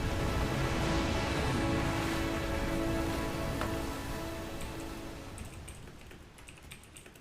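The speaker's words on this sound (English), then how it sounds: "God damn, there's so much rain." Heavy rain falls on a ship in a pirate video game, a dense pattering hiss with faint clicks that gradually thins and quiets toward the end, with no talk.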